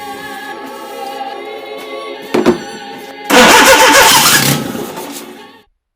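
A Fiat Panda engine turns over on starting fluid: a steady cranking whir, a sharp pop or two, then a loud, rough burst of firing that fades as it dies back to silence.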